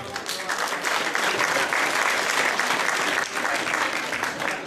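A crowd at an amateur youth boxing contest applauds in a dense, sustained burst of clapping, loud and continuous with voices faintly mixed in.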